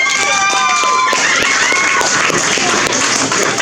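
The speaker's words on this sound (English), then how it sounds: "Give Sabrina a round of applause" A comedy-show audience gives sustained applause for comedian Sabrina, with a dense, steady roar of clapping and crowd noise that continues without a break.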